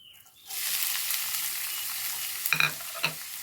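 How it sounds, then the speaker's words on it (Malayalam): Onions sautéing in a pan with cardamom, for a bhatura and chana masala dish: a steady close sizzle starts after a brief pause, then two quick scraping stirs of a spoon against the pan near the end. "ഉള്ളി വാട്ടട്ടെ."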